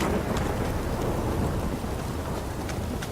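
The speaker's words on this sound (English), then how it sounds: "This downpour's a bastard," Heavy rain pouring in The Witcher 3, a dense steady hiss of downpour with low thunder rumbling beneath and scattered drops pattering close by, no speech.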